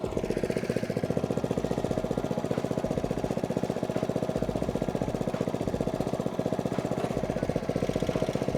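A lawn aerator machine runs steadily during a lawn renovation, a rapid, even mechanical thumping and engine drone, close and continuous without talk.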